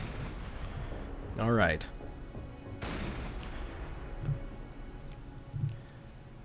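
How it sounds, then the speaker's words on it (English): A submarine deck gun in Silent Hunter 5 fires a couple of heavy booms, the sharpest about midway, with softer thuds afterward, under a constant engine-like rumble and a brief spoken remark. "Dieter, man the deck gun. Max, you should start firing."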